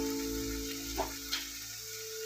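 Ground spices, Kashmiri red chili powder, meat masala and turmeric, frying in a pan with a low steady sizzle, and two brief soft scrapes of stirring, no talking.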